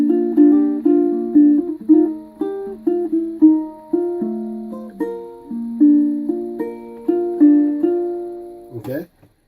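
Ukulele playing a short melodic lick, a steady run of single plucked notes with clear decays, solo and close, ending with a brief strum.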